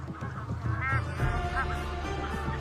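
Bar-headed goose, the dominant bird of its flock, gives several nasal honks in quick succession against a steady background murmur of other birds.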